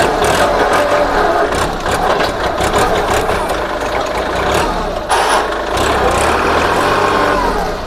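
A Kubota L3608 tractor from 2013 with 443 operating hours idles close by, its diesel engine chugging loudly in a steady, even rhythm with no talk.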